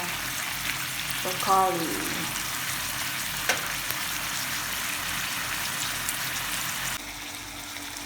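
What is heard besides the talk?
frying food in a pan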